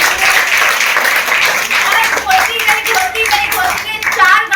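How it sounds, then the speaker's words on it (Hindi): An audience claps loudly and steadily during a youth team presentation, a dense wash of hand claps with a voice talking over it near the end. "ताली बजाते जोरदार"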